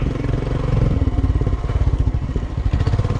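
Motorcycle engine running loud and close on a steep mountain pass in the Zanskar region, a steady thumping pulse that keeps firing after the bike restarts, no voices over it.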